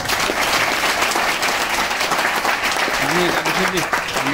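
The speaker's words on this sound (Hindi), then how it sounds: "आप लोगों के लिए जोरदार तालियां" Loud applause from a business-event audience fills the room as a continuous dense clatter of many hands, with brief voices or cheers rising through it near the end.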